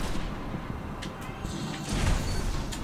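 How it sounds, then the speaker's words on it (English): Grenade explosion in the Destiny video game, a heavy boom arriving around the middle amid other game effects, with speech also present. "Yay, the grenade got him."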